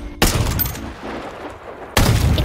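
Gunfire from the video game MW3 during a Search & Destroy match, two loud close bursts of shots, one at the start and one near the end, with quieter game noise between them.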